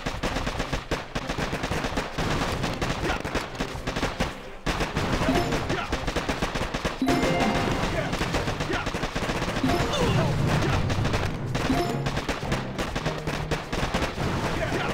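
Mortar and gunfire from the video game Boom Beach, with dense, continuous crackling shots and thudding impacts, loud and steady throughout with no clear pause.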